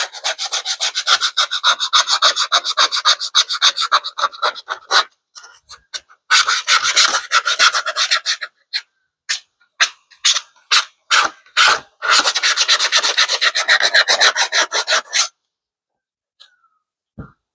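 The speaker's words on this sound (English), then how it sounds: "All we're doing is scuffing up the surface to increase our adhesion, particularly at the edges of the patch." Sandpaper scuffs the rubber surface of a tennis shoe near the toe in loud, close bursts of rapid back-and-forth rasping. The longer strokes give way to short separate strokes, then the rasping speeds up again.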